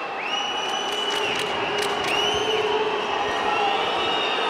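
A large, displeased ice hockey arena crowd roars and murmurs continuously, with scattered whistles and shouts rising through the steady din.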